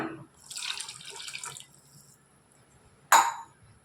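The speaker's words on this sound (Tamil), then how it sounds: "இப்போ தண்ணியை சேர்த்துக்கலாம்" Water poured into a cooking pot while making a millet rice dish with green peas and coconut milk, heard as a splashy pour for over a second, then a quieter stretch ending in a brief, sharp splash near the end.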